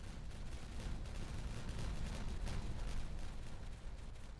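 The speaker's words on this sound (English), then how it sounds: "It is finally time to detonate." Detonated explosives in a video game, a dense rumbling barrage of overlapping booms rolling continuously with no clear gaps, fairly quiet overall.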